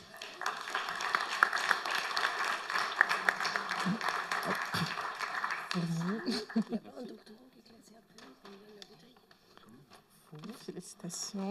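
An audience at a computer vision conference claps as people are called onstage, a dense burst of applause lasting several seconds that fades out, followed by people speaking.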